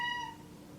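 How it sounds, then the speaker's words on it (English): A cat gives a single short meow up close. The call fades quickly into quiet room tone. "sorry for the kitty"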